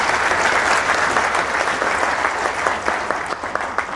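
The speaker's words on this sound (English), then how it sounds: "Let's give him a clap." Seminar audience applauding a speaker named Frank at a management rights disputes seminar: a sustained, even burst of many hands clapping together, fairly close and alone, tapering slightly toward the end.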